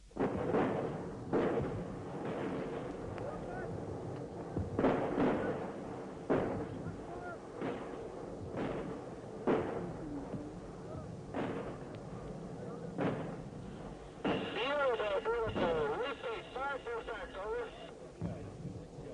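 Heavy booming blasts of artillery shells land one after another at a steady pace, deep and rumbling over a constant noisy background, with a burst of radio-like chatter near the end.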